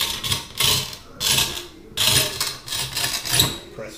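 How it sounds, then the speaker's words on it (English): A manual tile cutter's wheel scores across a tile in repeated gritty, scraping passes, close and bursty with short pauses between strokes. "Time for the old school tile cutter."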